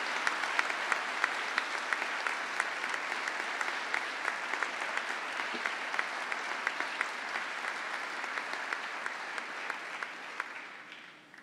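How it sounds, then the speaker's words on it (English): Sustained applause from an audience at a college commencement ceremony, honoring teachers: dense, steady clapping from a large crowd that holds evenly for about ten seconds before starting to thin and fade at the end. "A big round of applause for them all."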